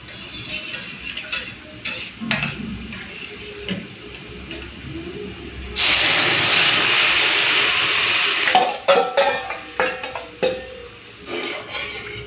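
Lentils poured into a pan of hot, deeply browned fried onions burst into a loud, steady sizzle lasting a few seconds, then settle into scattered crackles, stirring and pan clatter.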